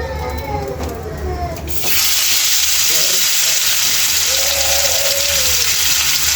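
Loud, steady sizzling of koi fish frying in a well-oiled kadai, jumping up sharply a couple of seconds in and holding strong, with faint voices underneath.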